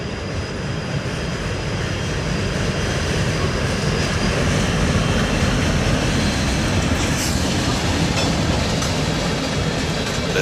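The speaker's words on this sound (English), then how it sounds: "The same GP60 from earlier comes by, having dropped off its train and picked up new cars, going back, long hood forward." A GP60 locomotive rolls past long hood forward, pulling freight cars, a steady loud rumble of engine and rolling wheels that holds for the whole stretch without letting up.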